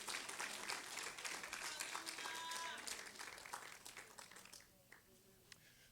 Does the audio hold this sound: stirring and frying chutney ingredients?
no